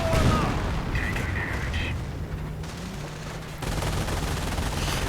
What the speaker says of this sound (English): Registered artillery barrage though going in.